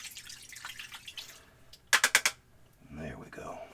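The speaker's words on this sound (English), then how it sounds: "Let's rinse the brush off one last time" An oil paint brush is swished and tapped in a container of rinse water, producing soft sloshing followed by a quick burst of four sharp tapping knocks, then light wet swirling, quiet and close.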